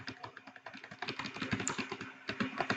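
Code is typed rapidly on a computer keyboard, a steady stream of close, distinct key clicks with uneven rhythm and no pauses.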